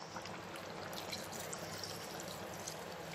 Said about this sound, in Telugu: మిక్సీ గిన్నెలో నీళ్లు వేసుకొని ఒక రెండు గ్లాసులు నీళ్లు వేసుకోవాలి